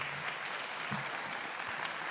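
A school board meeting audience applauds 2022 district level student winners, the clapping continuous and fairly even across the short stretch, with a faint bump of low sound partway through.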